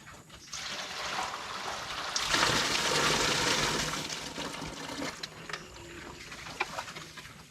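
Water runs and splashes steadily from a tap or hose into a container for farm animals, swelling louder midway before easing back, with faint bird sounds around.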